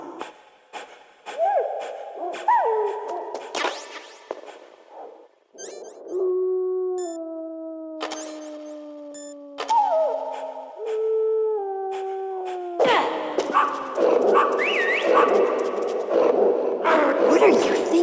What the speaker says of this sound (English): I thought you were good with dogs.